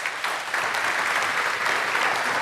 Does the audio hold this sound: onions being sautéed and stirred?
no